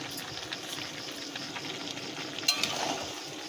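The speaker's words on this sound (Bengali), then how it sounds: "দেখো এমনভাবে কষিয়ে নেব ভালো করে, চাপাতে ভালো করে কষিয়ে নেব" Ghugni masala with sugar being sautéed in a pan, a soft steady sizzle with scraping stirs, and a brief louder clatter of the spoon near the end.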